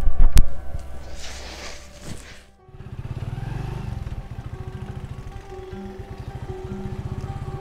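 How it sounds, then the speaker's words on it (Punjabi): A motorcycle pulls up on a rural Punjabi village lane, its engine first loud and rough, then after a brief dip settling into a steady, close idling putter with rhythmic pulses and no voices over it. "ਆ ਦੇਖ ਤਾਰੀ ਆ ਗਿਆ, ਦੇਖੀ ਮੋਟਰਸਾਈਕਲ ਲੈ ਕੇ।"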